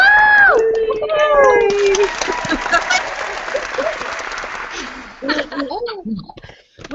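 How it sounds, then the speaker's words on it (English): Clapping and cheering from an online marketing training audience, a voice whooping with a sliding pitch at the start, then a steady wash of applause with scattered chatter and laughter at the end. "we can hear everybody clapping"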